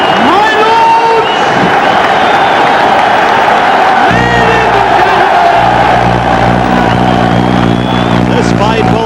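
A large arena crowd at a middleweight title boxing match cheers and roars loudly and continuously, with a steady engine-like drone joining partway through and a commentator talking over the noise.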